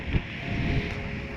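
Strong wind buffets a microphone outdoors at night in El Palmar, Spain, a steady loud roar with low rumbling gusts and no voices.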